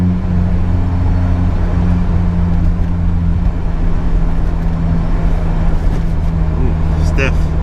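A Honda S2000 sports car on its last drive hums with a steady, loud engine drone from inside the cabin. The engine note shifts slightly as gears change, with a faint high whine near the end.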